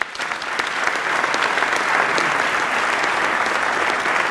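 An audience applauds a group of children, loud dense clapping that swells quickly and holds steady for several seconds.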